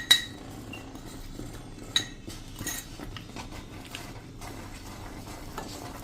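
Milk powder being stirred into a caramel coconut barfi mixture in a pan, quiet intermittent scraping and clinks of a spoon against metal, a couple of sharper taps, no speech.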